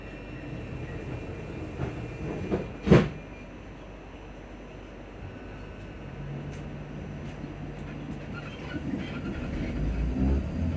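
ScotRail Class 334 electric train running near Edinburgh Park, a steady low rumble with a brief loud clunk early on and a faint hum building toward the end, no talk.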